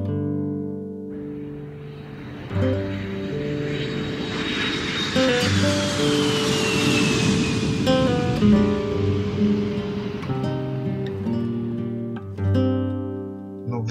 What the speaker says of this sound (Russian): Взвыл самолет и умчал тебя вдаль.